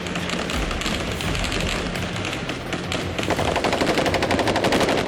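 Gunfire aimed toward demonstrators during the 1993 clashes in Moscow: loud bursts of rapid automatic shots, sparse cracks early on building into a dense, continuous rattling volley over the final seconds.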